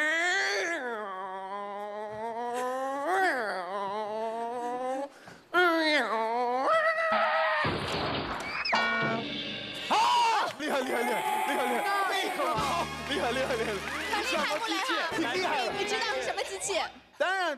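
A person does a vocal imitation of an electric scooter during a mouth-sound performance, producing rising and falling whines and buzzing tones that carry on for many seconds with brief pauses.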